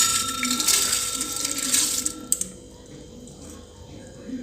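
Soaked rice and toor dal poured into a pressure cooker, giving a wet, grainy rush of pattering and sloshing for about two seconds before settling into quieter clinks and faint stirring.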